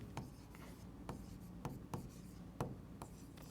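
Chalk or marker writing on a board during a physics lecture about electricity, with a few short, sharp strokes and taps spaced irregularly over a quiet room hum, close and faint, with no speech.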